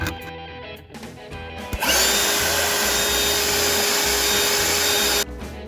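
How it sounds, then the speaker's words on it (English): A vacuum cleaner switches on after a few faint clicks and runs as a loud, steady roar while sucking loose ballast off a model railroad layout, then cuts off near the end. "then I'm going to vacuum up the parts that come off."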